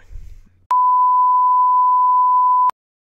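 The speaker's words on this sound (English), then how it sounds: "House phone, stop." A house phone gives one long, steady electronic beep of about two seconds, loud and clean, starting and stopping abruptly after a brief low rumble.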